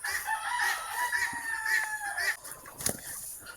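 Farm chickens crow and cluck close at hand in a short series of overlapping calls, with a rooster's drawn-out crow over scattered clucks.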